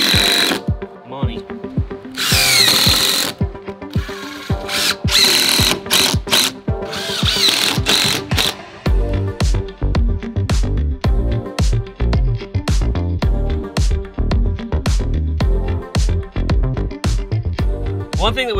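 A power tool cuts a bevel on the end of a deck inlay board during a backyard build, with loud whirring bursts early on, then a long run of rapid rhythmic clicking close by.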